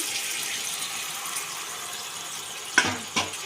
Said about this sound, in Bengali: উষ্ণ গরম জলটাও আমি দিয়ে দিচ্ছি